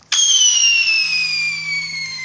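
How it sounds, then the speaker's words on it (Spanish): A firework rocket launches at night outdoors with a sharp onset and a loud, descending whistling screech that trails on for about two seconds. "Estos sí son cohetes, no como el otro día."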